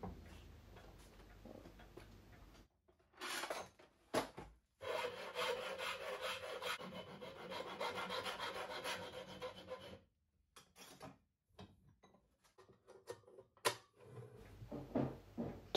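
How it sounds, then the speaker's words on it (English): A steel gear chain shaft for a Kawasaki S1 engine casing has its ends cleaned up with a hand file. Several bursts of close, rasping strokes come through, then a few brief scrapes and knocks, with no voices. "I clean up the ends of the shaft with a file"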